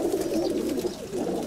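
Pigeons cooing nearby, a soft, steady, throaty warble that rises and falls continuously, fairly close and alone with no talk.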